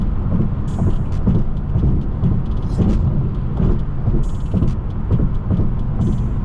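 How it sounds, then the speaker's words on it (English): Steady turn-signal clicking inside a BMW M6 cruising in traffic, the regular ticks riding over a constant low rumble of engine and road noise. "my blinker's on because I've already decided that I will be making this lane change"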